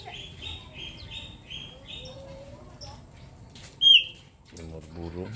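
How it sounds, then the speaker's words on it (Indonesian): Caged pet birds, including starlings, white-eyes and canaries, chirp in short repeated tweets and a sharp loud call near the four-second mark, with a voice talking toward the end. "Ada jalak putih, ada jalak suren, ada pleci, ada kenari sama jalak kebo."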